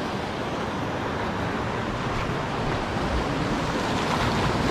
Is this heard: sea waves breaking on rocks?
yes